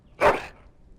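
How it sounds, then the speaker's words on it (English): A single short dog bark from the Dragon Age Origins video game, clear and fairly close, followed by a brief fading tail and quiet. "That is a wonderful dog."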